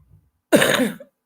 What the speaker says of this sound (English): Can't get away from this horrible chesty cough